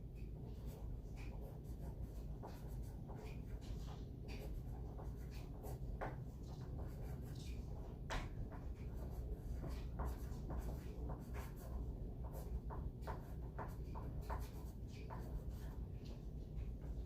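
Pencil scratching on paper as a student writes answers in a classroom, a steady run of soft strokes and taps for the whole stretch over a low room hum, with faint murmurs in the background.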